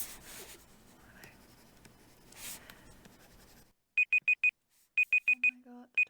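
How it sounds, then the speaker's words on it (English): A timer alarm goes off during a painting session, sounding as a clear, close series of sharp repeated electronic beeps in quick bursts, with a lower buzzing tone under the second set, after a stretch of quiet brush-on-canvas rubbing. "Oh my god, the timer's up."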